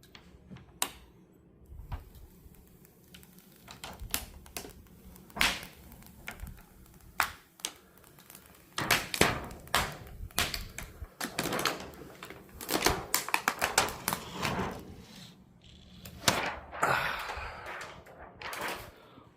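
Protective film being peeled off a Samsung The Premiere 9 LPU9D triple-laser 4K ultra short throw projector, heard as a series of close crackling, ripping bursts that swell in the second half with brief pauses between pulls.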